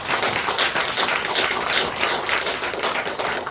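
Dense applause from a congregation at a Unification Church service, honoring the movement's leader; steady, continuous clapping throughout with no voices on top.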